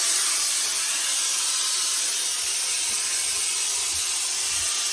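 Steam from a steamer hisses steadily and loudly onto a beige Nutria Classic trilby hat, a continuous close broadband rush lasting throughout without pause.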